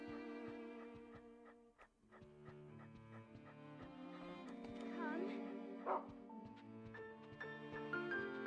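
A puppy in the video game Rule of Rose whimpers and gives soft yips, short repeated cries that sit over a tonal game music bed.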